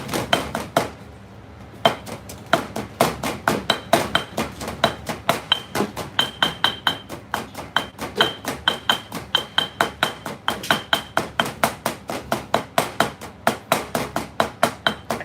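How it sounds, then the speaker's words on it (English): Red curry paste pounded in a granite mortar with a pestle in a Thai kitchen: a steady, rapid run of sharp, loud thuds with a ringing stone edge, close by and unbroken after a brief pause near the start. "this mortar, it's called granite mortar"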